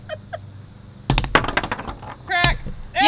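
A hammer whacks a walnut to crack it, giving one sharp loud strike followed by a second clinking hit, with brief voices around the blows.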